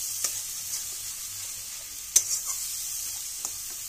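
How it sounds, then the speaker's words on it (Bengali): Masala for egg curry being sautéed in oil in a pan, giving a quiet, steady sizzle with a few soft clicks and scrapes from stirring. "ভালো করে আমাকে তিন চার মিনিট কষাতে হবে"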